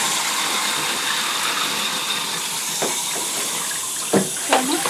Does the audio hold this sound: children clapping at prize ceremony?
no